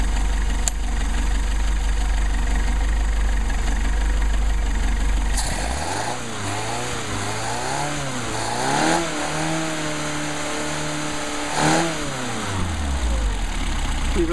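A Mercedes 190SL engine idles after a carburetor adjustment, running near 1,000 RPM, its steady tone lifting and falling through several short throttle blips before settling back, close and clear with no talking.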